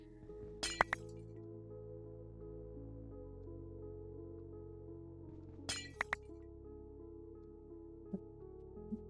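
Glass blocks being placed in the Minecraft game Vault Hunters, with two quick bursts of sharp glassy clinks several seconds apart and a few fainter ticks, over a low steady background hum.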